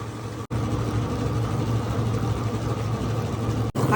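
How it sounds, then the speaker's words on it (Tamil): Smart Fingers Masala+ tabletop wet grinder churning millet dosa batter, a steady loud motorised hum and rumble with two brief cut-outs, no voices. "ஸ்மார்ட் ஃபிங்கர் மசாலா கிரைண்டரில் பேட்டர் மோட ஆன் பண்ணிவிட்டு உளுந்தை போட்டுக்கலாம்"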